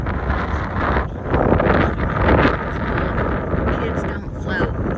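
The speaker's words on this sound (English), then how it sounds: "Oh, it's very windy." Heavy wind buffets the microphone outdoors in Mayport, Florida, a loud, continuous rumbling roar with gusts surging and easing throughout.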